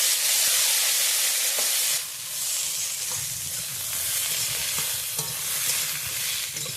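Drumstick, carrot and beans frying in a pan, a loud continuous sizzle and hiss close by with occasional stirring knocks, no voices.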